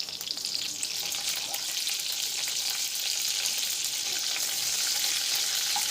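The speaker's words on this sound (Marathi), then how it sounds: "ही कढीपत्त्याची पानं आपण ह्यामध्ये टाकणार आहोत." Fresh curry leaves hit hot oil in a pan for tempering, giving a steady, crackling sizzle that fills the clip from start to finish at close range with no talk.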